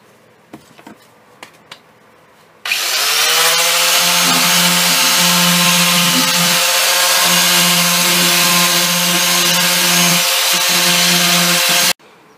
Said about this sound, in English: So I put a bit of 80 grit paper on there to try to get rid of all the tool marks from the grinders.